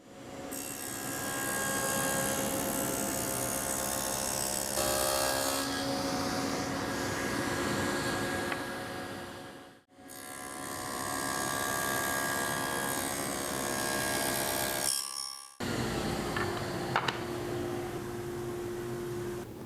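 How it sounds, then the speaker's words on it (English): Loud, sustained whine of a DeWalt DW7670 dado blade stack with carbide-tipped chippers and 24-tooth outer blades, set for a 3/4 inch cut, grooving hardwood in long steady passes broken by brief pauses as each run ends. "We'll show you how it cuts grooves and dados in hardwood"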